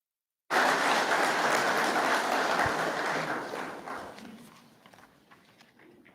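Audience applause at a fire academy graduation ceremony, beginning abruptly after a moment of silence, full and steady for several seconds, then gradually fading away.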